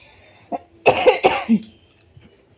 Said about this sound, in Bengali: কাশি পাচ্ছে কিছুতেই কমছে না